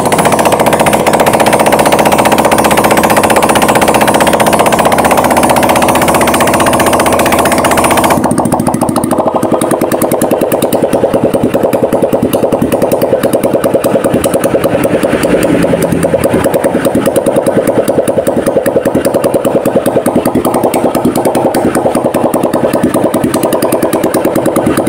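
A Honda Vario 150 scooter whose radiator coolant is mixed with engine oil is started up close: a loud whirring crank gives way to a rapid, steady idling engine clatter that runs on.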